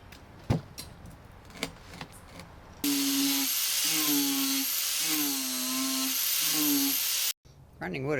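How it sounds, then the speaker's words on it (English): Outdoors, a power grinder cuts into wood with a loud, steady, high whine that wavers in pitch for several seconds before stopping abruptly, with scattered knocks and handling sounds before and after. "Grinding wood is so weird."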